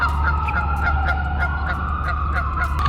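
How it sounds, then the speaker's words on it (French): Small ducks quack and honk in a steady run of calls, close and fairly loud over a constant outdoor hum. "Petit canard."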